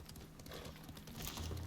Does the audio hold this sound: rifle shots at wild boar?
no